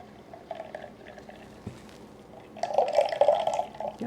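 Green cooking water pours through a large-holed strainer for gluten-free pizza, a quiet trickle that swells into a louder, steady splashing pour near the end.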